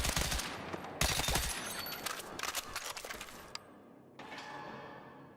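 Automatic weapon fire in the Battlefield 6 shooter, loud close bursts of rapid shots with sharp cracks and mechanical clatter, broken by short pauses and trailing off into quieter game ambience.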